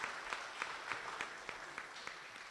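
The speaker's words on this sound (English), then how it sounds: "Let's give them a round of applause because they donated so much to make this possible." A small audience at a senior talent show claps in a steady, rhythmic beat that stays faint and even, with no voices over it.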